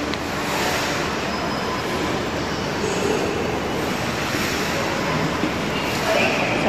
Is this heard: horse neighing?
no